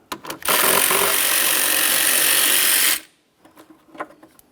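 A powered ratchet spins out the single 13mm mounting bolt on the coolant overflow tank of a 2007-2017 Jeep Patriot 2.4L; one steady, loud, close whirring run of about two and a half seconds, then a few faint clicks.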